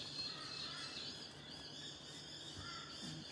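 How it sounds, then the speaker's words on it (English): Crows caw among other birds calling outdoors, faint and distant over a steady hiss of ambient noise. "hear those crows and some other birds, big and loud"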